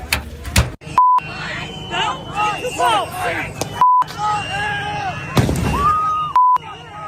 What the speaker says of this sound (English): Imagine being a law enforcement officer and getting fireworks thrown at you